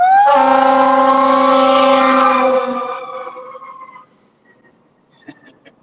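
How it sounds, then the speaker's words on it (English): A passing fire engine sounds a loud, harmonic siren blast for about two seconds, then the tone fades away over the next couple of seconds into near quiet with a few faint clicks. "Guy's trying to run him over in the fire engine."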